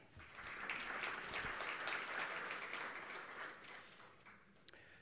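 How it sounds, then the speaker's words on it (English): Conference audience at a green hydrogen event in Namibia giving a round of applause, a soft, fairly distant patter of clapping that swells and then fades out after about four seconds. "You all deserve another round of applause."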